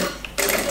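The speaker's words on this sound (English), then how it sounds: "Put it under the sewing machine and make a stitch like this." A sewing machine stitches a polo shirt placket about 6 mm from the folded overlock edge, starting abruptly after a quiet moment and then running steadily and close for the rest of the short stretch.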